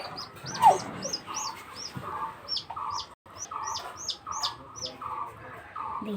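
A baby chicken chirps repeatedly, each call a short rising peep in an irregular series close by, with soft clucking behind and quiet background noise.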